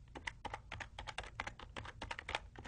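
Rapid typing on a computer keyboard while entering code in a web development tool, a steady run of crisp keystrokes, close and fairly quiet, with no talking.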